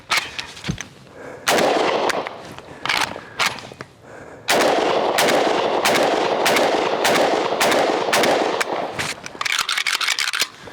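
AK-47 rifle firing in bursts, loud sharp cracks in rapid strings separated by short pauses, close and without talk.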